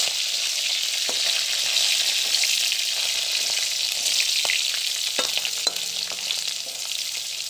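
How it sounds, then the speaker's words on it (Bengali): Garlic and green chilies sizzle steadily in hot oil for a village-style bottle-gourd-leaf fry, a close, dense crackle with a few soft clinks of stirring and no talk. "রসুনটা ভালো লাল লাল করে ভাজা হচ্ছে।"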